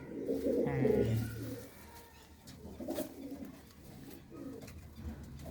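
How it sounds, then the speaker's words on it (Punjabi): Pigeons in a Punjabi fancier's loft coo in low, throaty warbling phrases close by, loudest at the start and then softer, with intermittent shuffling in between. "ਇਹ ਕਬੂਤਰ ਨੇ ਜਿਹੜੇ ਦੇਖ ਰਹੇ ਹੋ ਤੁਸੀਂ"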